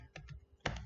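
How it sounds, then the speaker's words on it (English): Keys tapped on a computer keyboard while entering a React Native terminal command: two light clicks followed by a louder cluster of keystrokes, close and quiet. "So I'll be typing npx"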